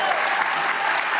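A studio audience claps in a dense, steady burst of applause, loud and close, with no break across the short stretch.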